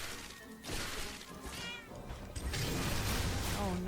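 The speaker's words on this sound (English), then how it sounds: "Oh no, not the sad meow." Cat meows repeat in the Cat Quest video game, a few plaintive wavering cries over a busy layer of game sound and noise.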